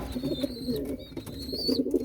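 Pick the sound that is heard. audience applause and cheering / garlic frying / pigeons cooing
pigeons cooing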